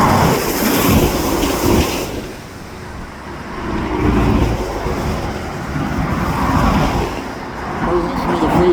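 A freight train rolls past with coil, gondola and tank cars, a steady broadband rumble and rattle of wagons filling the scene at moderate volume, with muffled talk beneath.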